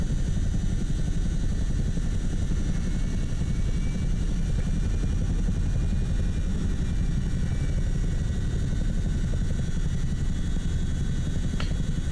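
Chinook helicopter in Microsoft Flight Simulator 2024, a loud, steady rotor and engine drone that holds constant throughout with no voices.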